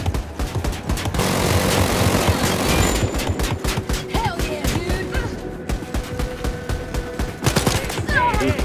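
Rapid automatic gunfire in the video game Wolfenstein: Youngblood, dense sustained bursts with short pauses, loud and close, layered with game effects and occasional voice.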